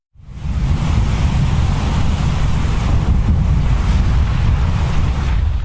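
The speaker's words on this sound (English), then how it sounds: "Gale-force winds, lashing rain, lightning flashed across the churning ocean, flickering across the raging waves." Storm at sea with gale-force wind driving churning waves: a loud, continuous roar of wind and surf that swells in quickly and then holds steady, with no voices.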